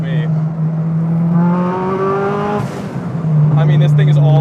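A big-turbo Honda Civic hatchback accelerates hard, its engine note climbing in pitch, easing off mid-stretch and then surging again at close range.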